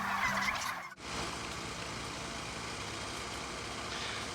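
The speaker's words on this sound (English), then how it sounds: "Tonight we're loading turkeys at the Petaluma Ranch." A flock of free-range turkeys being loaded at night on a Petaluma ranch, gobbling and calling at the start before a steady blanket of crowded flock noise carries on.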